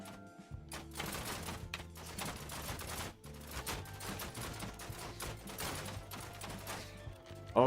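Dense volleys of crossbow bolts crack and rattle in rapid bursts in a Mount & Blade II: Bannerlord battle, with crowded battlefield noise throughout and a loud impact near the end.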